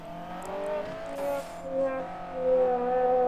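A Honda engine revs hard in a virtual drift racing game at Road Atlanta, its rising, wavering tones climbing and falling in pitch over a steady engine drone.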